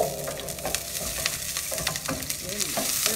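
Onion frying and being stirred in a pot, a close, steady sizzle broken by repeated scraping strokes and light clinks of the spoon, with no one talking.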